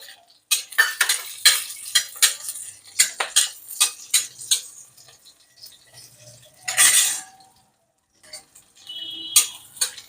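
Ginger tipped into a pan with green chillies while making a curry leaf chutney, then stirred with a metal spoon: a run of sharp clinks and scrapes, close and fairly loud, with a brief sizzling burst partway through.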